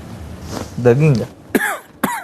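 A man coughs in a reality-show house at midnight, two sharp, loud bursts in quick succession following a stretch of talk.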